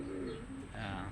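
A breeder pigeon hen gives a soft, low cooing phrase, close and steady through the short moment, with a brief shift partway and no talk over it.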